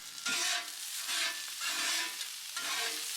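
Sliced onions seasoned with salt and pepper sizzle on a Traeger Flatrock griddle, a steady close frying hiss that swells in bursts as they are stirred and turned, with no talking.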